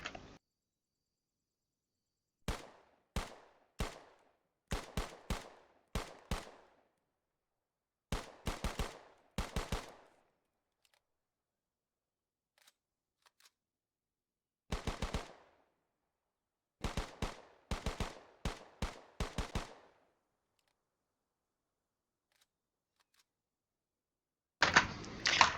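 Several bursts of semi-automatic M1 Carbine rifle fire in Arma 3 with the IFA3 weapons mod, sharp close shots in quick clusters of two to six separated by short silences, with a final burst at the end.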